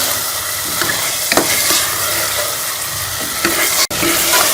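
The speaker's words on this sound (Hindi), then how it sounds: "मैंने आलू और मटर को अच्छी तरह से मसाले के साथ भून लिया है।" Potatoes and peas fry with spices in a pan for aloo matar curry, giving a steady, loud sizzle with a few scraping stirs and a brief dropout near the end.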